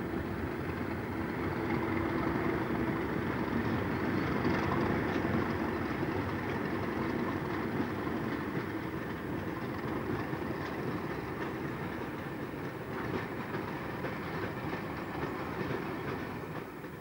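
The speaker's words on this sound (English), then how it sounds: "The driver takes his train cautiously down the 1 in 50 gradient" A train rumbles steadily along the rails for a long stretch, descending a 1 in 50 gradient towards Station Junction near Barnsley, wheels clattering softly over the track, with no voices.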